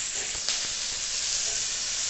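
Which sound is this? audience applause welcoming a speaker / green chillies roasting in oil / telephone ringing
green chillies roasting in oil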